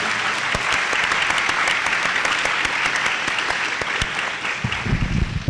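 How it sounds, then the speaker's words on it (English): A conference audience gives loud, steady applause at an opening ceremony, a dense wash of many hands clapping together that carries on for several seconds before thinning toward the end. "let's please give a round of applause."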